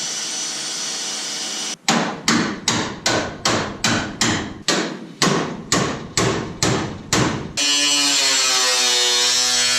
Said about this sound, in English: which I'm just going to cut with a grinder.